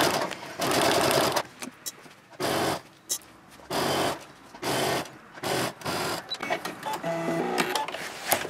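A sewing machine stitches through a plastic diaper changing bag in loud, rapid bursts of mechanical clatter separated by short pauses, close up with no talking.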